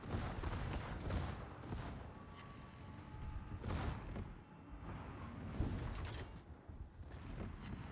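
Warship guns firing during a World of Warships operation, heavy booms and rumbling salvos over a dense, constant mechanical din, fairly loud and sustained with occasional sharper blasts.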